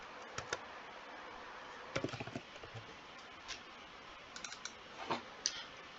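Quiet, sparse computer mouse clicks while working in an Excel spreadsheet, single and paired taps scattered irregularly over a faint background hum with no talking.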